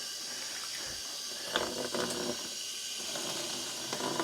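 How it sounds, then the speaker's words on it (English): Freshly dyed yarn rinsed under running tap water: a steady hiss of flowing water with a few splashy surges as the yarn is moved. "This yarn has completely cooled down now, so let's give it a little wash."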